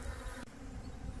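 Honey bees hum around an open hive during supering, a dense steady buzz close by with one brief click partway through.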